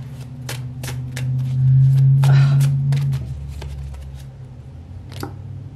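A deck of tarot cards being shuffled by hand, with several quick riffling bursts and one longer sustained shuffle in the middle, close and fairly quiet, with no talking.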